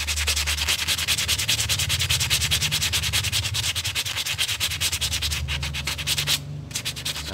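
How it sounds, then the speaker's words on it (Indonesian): Coarse sandpaper is rubbed back and forth over Honda Vario 150 scooter clutch shoes, a close, continuous rhythmic scratching with quick regular strokes and a brief pause near the end. "Kita amplas, yang amplas agak kasar aja enggak apa-apa, tipis-tipis gitu. Kita amplas begini."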